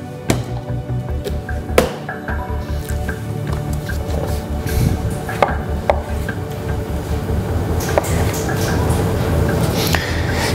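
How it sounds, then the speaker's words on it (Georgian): A knife cuts through peeled, blanched tomatoes for salmorejo, making close, irregular taps on the board mixed with soft, wet squishes. "ახლა პომიდორი დავჭრათ და"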